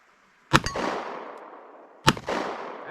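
A pistol fires Norma Hexagon .45 ACP ammunition twice, about a second and a half apart. Each sharp, loud shot rings out with a metallic clang and a long decaying echo, and no one speaks.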